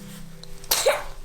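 A single sharp sneeze bursts out after a brief quiet moment, close and loud, with a short breathy tail.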